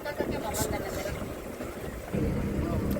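A boat engine runs at low throttle across the mangrove backwaters of Kerala. Its steady, close, low rumble mixes with wind buffeting the microphone and faint voices.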